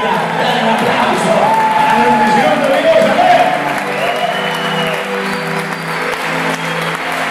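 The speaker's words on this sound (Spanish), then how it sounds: "¡Dale un aplauso!" A crowd at an Argentine church service breaks into loud applause with cheers and whoops, while voices carry over the clapping.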